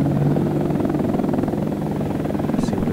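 Steady helicopter rotor and turbine drone from a Hind attack helicopter in a flight simulator game, a continuous loud mechanical hum with low thumping, running alone without talk.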